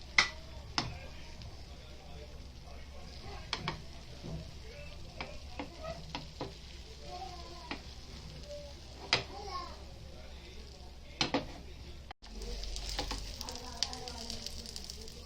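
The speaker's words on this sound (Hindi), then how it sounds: "और अभी ये अंडा डाल देंगे तो पूरा चारों तरफ फैला देंगे उसको" An egg frying in oil on a hot tava at a Mumbai street food stall, with a soft, steady sizzle running throughout, occasional sharp clicks and clatters, and faint background voices.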